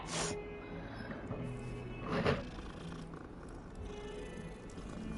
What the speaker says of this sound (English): And yes, you can pet the cats.